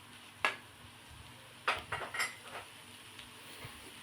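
Leftover white rice is stirred in a pan, with a few distinct scraping clanks of a utensil against the pan over a quiet background.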